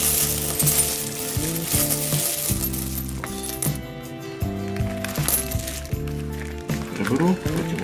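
Foreign coins being sorted by hand clink and jingle repeatedly in a loose metallic pile, close and fairly loud, with a person talking over much of the handling.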